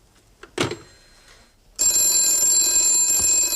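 An old landline telephone bell rings loud and close, continuous after a brief muffled knock, in a domestic setting from 1972.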